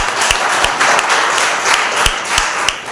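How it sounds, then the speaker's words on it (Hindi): Church congregation clapping together during a Sunday service, a moderately loud burst of many hands with a few sharper individual claps standing out through the short stretch. "आपस में एक ताली बजा सकते हैं"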